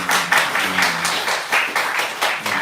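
Rhythmic group clapping from a church congregation during Sunday service announcements, close and loud in steady unison beats of about two to three per second, with no voices over it.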